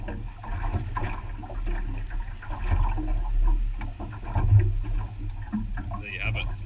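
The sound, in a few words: washing crayfish halves in water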